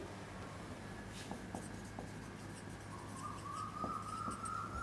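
Chalk or a marker scratches a formula onto a classroom board, making faint, irregular strokes with soft taps over a quiet room hum, with no voice.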